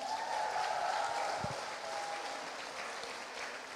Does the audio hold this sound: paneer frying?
no